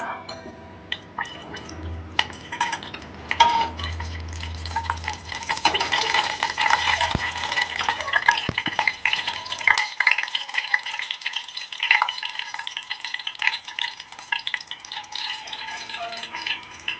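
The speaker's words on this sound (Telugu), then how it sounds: "నెయ్యి వేసుకొని నెక్స్ట్ వచ్చేసి జీడిపప్పు, బాదము, కిస్మిస్ ఇవన్నీ వేసుకొని ఫ్రై చేసుకుందాం." Cashews, almonds and raisins fry in ghee in a pan, giving a steady sizzle with stirring scrapes and a few light clinks, close and fairly loud throughout with no talking.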